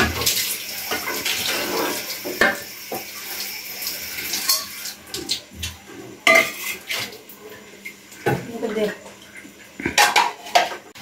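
Dishes washed by hand under running water, with close clatter of plates, pots and cutlery knocking together in a sink and water splashing throughout, with some faint voices now and then.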